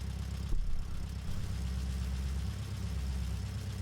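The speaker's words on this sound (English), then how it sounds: "Car noises." A car engine idles steadily in the video game Deadly Premonition, a continuous low rumble with a brief louder surge near the start, no voices over it.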